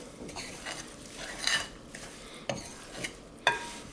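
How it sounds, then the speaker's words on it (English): A mixing spoon stirs spiced seitan dough in a bowl, making soft, close scraping and working sounds broken by a few sharp clinks against the bowl. No one talks. "Grab ourselves a mixing spoon and incorporate this into a dough"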